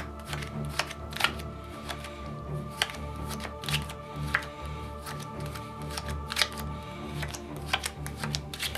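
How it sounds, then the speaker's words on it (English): Playing cards dealt one at a time onto a table, a steady run of soft, crisp snaps and slides close to the microphone against a faint background hum, with no talking. "Now I'm gonna deal the cards."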